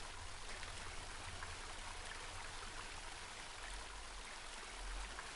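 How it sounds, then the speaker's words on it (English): A cold river flows steadily in the dark in the PS4 game Home, a continuous, faint rushing wash of water with no voices. "The path ended in a cold-looking river."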